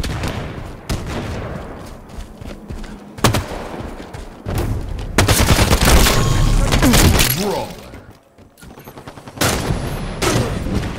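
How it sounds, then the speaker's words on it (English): In a video game, bursts of gunfire and sharp blasts, among them a grenade explosion, come in loud irregular volleys. A voice talks over some of the shots. "Grenade incoming!"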